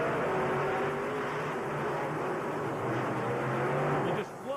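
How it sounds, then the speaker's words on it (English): Monster trucks launching off the starting line in a Houston stadium race, a loud sustained roar of big engines with rising revving tones, steady and dense throughout before dropping off sharply near the end. "the thunder when these trucks leave the starting line"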